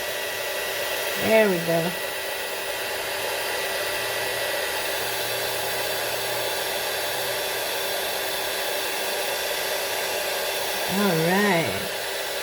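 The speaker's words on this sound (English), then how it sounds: "I'm going to grab my heat tool. Be loud for a minute. Got to heat up just a little." A handheld heat tool blowing hot air over paper craft work, a steady loud whooshing roar that runs throughout, while a person talks briefly near the start and near the end.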